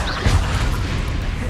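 A deep, booming thud of the Descendo spell slamming down in Hogwarts Legacy, one short low impact with a rumbling tail under game ambience.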